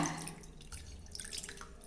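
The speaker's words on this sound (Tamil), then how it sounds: "இப்போ இன்னும் கொஞ்சம் தண்ணி விட்டுக்கலாங்க" Water poured into a pot while making rasam, a soft continuous splashing and trickling, close by and fairly quiet.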